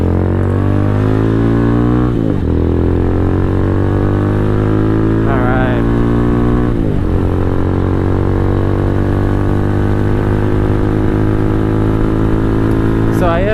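Venom X22R 250 motorcycle engine running close and loud, a steady buzzing idle broken by a few short throttle blips that rise and fall in pitch.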